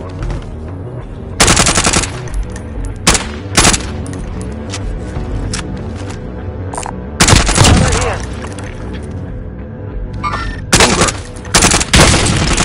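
Bursts of automatic gunfire in the Warzone video game, with loud rapid volleys breaking out several times over a dense background of game sound and occasional voices.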